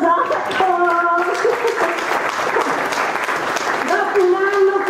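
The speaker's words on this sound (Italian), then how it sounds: "Fate un applauso a Giacomo!" Audience applause for Giacomo at a business success event, a steady dense wash of clapping with a voice speaking over parts of it.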